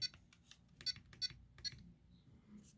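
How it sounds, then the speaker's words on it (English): A RadioLink RC6GS V2 6-channel 2.4GHz radio transmitter gives short electronic beeps as its trim is stepped to zero: four quick clicky beeps, then a fainter tone, heard up close in a quiet room. "You do get a different beep when you get to 0"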